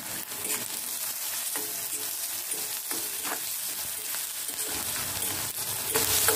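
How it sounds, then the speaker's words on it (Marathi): Onion, garlic and chili sauté in hot oil with a pinch of salt. A loud, steady sizzle fills the space close up, broken by regular scraping strokes of a spatula, with no talking. "आता कांदा देखील आपल्याला सोनेरी कलरचा होईपर्यंत पण परतवून घ्यायचा आहे"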